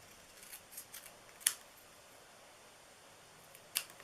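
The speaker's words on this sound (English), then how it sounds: "I'm going to cut it in half." Scissors snip through paper while a Halloween treat box is made, two sharp close cuts about two seconds apart with faint rustling between, and no voices.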